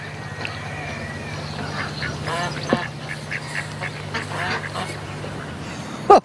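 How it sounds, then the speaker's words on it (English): Geese on water honk and call intermittently over a steady low hum, with one loud, sharp honk near the end; no talking. "Now these are called geese."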